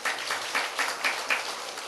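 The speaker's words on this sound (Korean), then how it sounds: "예, 박수 한번 쳐주세요." A church congregation at a Sunday worship service claps together in steady, rhythmic applause, with the beats pulsing evenly throughout. The sound fills the room at moderate loudness.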